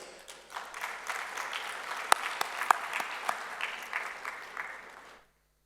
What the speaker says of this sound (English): So I would like to have a big round of applause once again for him.